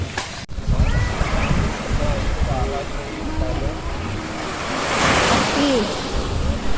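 Sea waves washing onto the shore at Sualig Bay, Cauayan, at an early hour: a steady surf roar with a swell that builds toward the end, plus a sharp knock near the start and faint background sounds.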